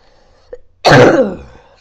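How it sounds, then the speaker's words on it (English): A single harsh cough bursts out loudly after a brief faint click, then fades quickly. "Sorry, I've got a cough."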